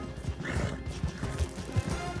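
Horse whinnying with hoofbeats in the Red Dead Online video game; one clear neigh rises near the start, followed by steady clip-clop of hooves throughout the short stretch.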